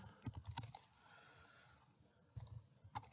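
Someone types a quiz question on a computer keyboard: quiet, close clusters of quick keystrokes, a short burst at the start, a pause, then a few more taps near the end.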